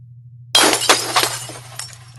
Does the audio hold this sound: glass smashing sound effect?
yes